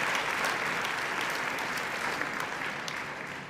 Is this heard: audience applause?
yes